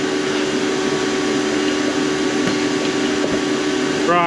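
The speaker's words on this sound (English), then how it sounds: "Excuse the compressor, it will stop in a second." Air compressor droning steadily in a workshop beside a rusty Volkswagen T25 Transporter, a continuous loud hum with a faint tonal whine throughout, a brief rising warble at the end.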